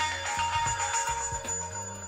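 A ringtone plays from a phone triggered by the find-device function of a DT No.1 Watch X smartwatch, a short repeating electronic melody heard steadily on its own.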